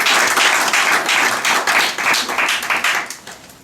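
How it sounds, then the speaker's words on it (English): A round of applause rings out from the audience at a town board meeting, dense steady clapping for several seconds that thins and fades toward the end. "I'd like to have a round of applause to our dedicated public servants."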